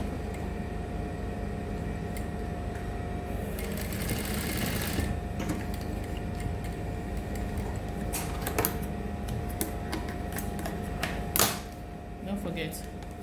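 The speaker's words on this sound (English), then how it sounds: "just top stitch this part so that it holds the remaining" A sewing machine top stitches culottes fabric with a steady, moderately close mechanical hum, strongest in a short burst partway through, over a constant background drone with occasional light clicks.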